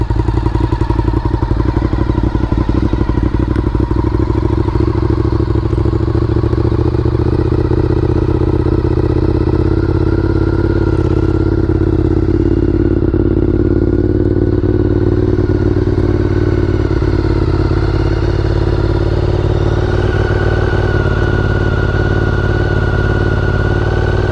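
A Honda RC51 motorcycle's engine running at a fast idle, a loud, steady, close-up V-twin rumble with slow, uneven firing pulses and mechanical clatter, continuous throughout with no talk.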